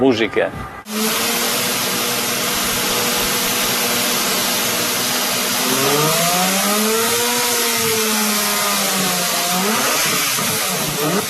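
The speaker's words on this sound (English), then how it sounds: "the only music you're gonna want to hear is the song coming from that engine" A loud, steady Lamborghini V12 engine drone runs throughout with a shifting pitch that rises and falls midway, following a brief burst of noise at the start.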